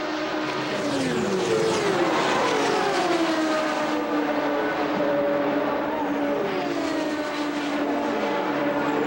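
IndyCar race cars screaming around the track, high engine whines sweeping up and down in pitch as cars pass, loud and continuous with overlapping engine notes throughout.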